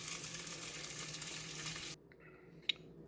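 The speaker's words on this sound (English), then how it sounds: "I have my brats in the pan, and they're sizzling away" Bratwurst sizzling in a frying pan, a steady faint hiss that stops abruptly partway through, followed by a small click.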